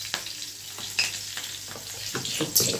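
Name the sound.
sizzling five-spice tempering with dried and green chillies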